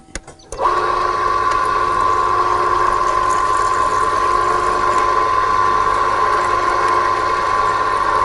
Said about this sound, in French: je vais aller chercher un peu d'eau. On remplit.